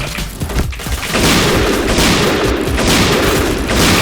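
Rapid, loud gunfire from the Point Blank shooter game, a dense, continuous volley of shots after a brief quieter lead-in, with no voices over it.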